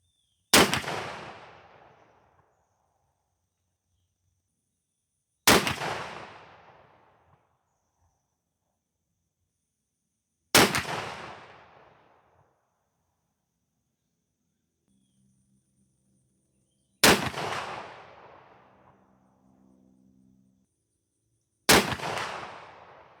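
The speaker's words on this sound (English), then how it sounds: "So let's head over here and take these shots and see what kind of results we get." Five loud, evenly spaced blasts from a Remington 870 pump shotgun firing Federal Power-Shok 12-gauge sabot slugs outdoors, each sharp crack decaying over a few seconds before the next shot, with silence in between.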